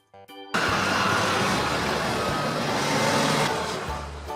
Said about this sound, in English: Articulated dump truck.